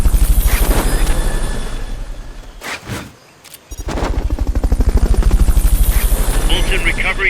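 A Fulton recovery helicopter in Metal Gear Solid: Peace Walker gives a loud, rapid rotor chop that dips briefly midway, then returns at full strength, with in-game voice audio alongside.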